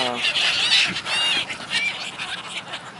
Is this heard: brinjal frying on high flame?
no